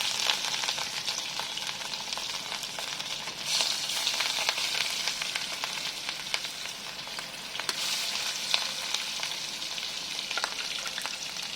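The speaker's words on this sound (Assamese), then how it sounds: "এতিয়া মই নিমখ হালধি সানি থোৱা মাছখিনি ভাজি লওঁ।" Fish pieces coated with salt and turmeric shallow-frying in oil, a steady, even crackling sizzle throughout with faint stirring, close and unbroken, no voices.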